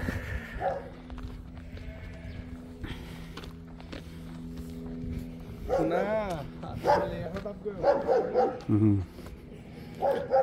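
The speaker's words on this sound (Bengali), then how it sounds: "যেমন এদের নিরাপত্তার জন্য যে কুকুর রয়েছে।" A dog barks several times at close range on an American farm with cattle and chickens, amid voices and farmyard clatter, with brief clip-clop sounds.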